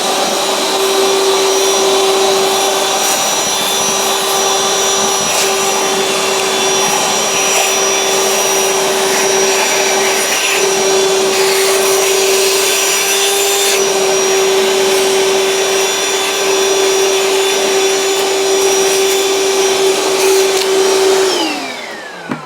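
A Ryobi 18V cordless vacuum cleaner with an 11-litre tank runs steadily at close range, a loud continuous motor whine with a high tonal hum, then spins down at the end.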